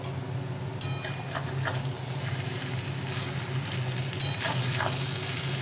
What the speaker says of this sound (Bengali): সবজির সাথে মিশিয়ে দিলাম, দিয়ে ঘিয়ের মধ্যে নাড়াচাড়া করে নিয়েছি